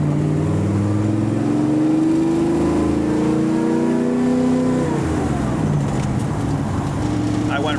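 1957 Chevrolet engine cruising at about 50 mph in fifth gear, a loud, steady low drone with a smooth gear change partway through, with speech over it.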